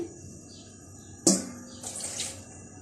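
A sudden splash as water squeezed from bitter gourds is tipped out, followed by a short trickling pour, fairly close and brief.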